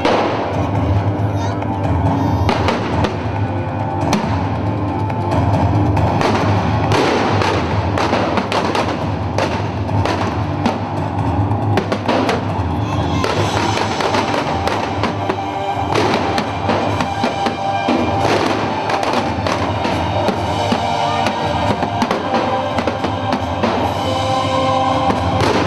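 A dense, continuous barrage of fireworks bursts and thuds at the belfry fireworks display, L'Embrasement du Beffroi, loud and relentless throughout, with a crowd and voices mixed in beneath the explosions.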